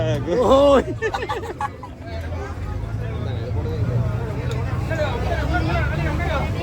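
A boat's engine rumbles low and steady as the boat sets off, joined by a swell of excited crowd chatter and voices from people aboard.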